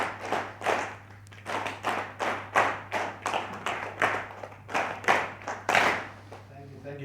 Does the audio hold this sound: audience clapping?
yes